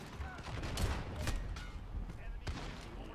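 Gunfire from a newly acquired gun in a video game: a few sharp shot bursts, clustered in the first half and again later, sitting under ongoing chatter and game noise.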